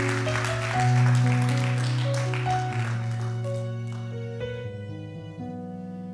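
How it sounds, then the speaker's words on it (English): A church congregation claps together in a loud, dense burst that fades over a few seconds, with sustained keyboard chords ringing underneath. "Clap for the Lord."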